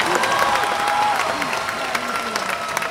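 A concert audience claps and cheers at a Fenyő Miklós show, a dense, loud, continuous wash of applause with voices mixed in.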